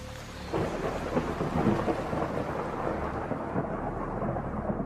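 A heavy thunderstorm with steady rain pouring down, deep rolling thunder rumbling loudly underneath and continuing without break through the whole stretch.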